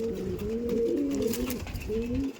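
Udan Andhra pigeons at a seller's loft give soft, low, repeated cooing, close by and alone, rising and falling in a few short phrases.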